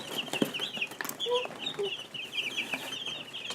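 Young Wyandotte chicks, including a blue-laced red, cheep and cluck close by in a steady chatter of overlapping high peeps and soft clucks, with no talking.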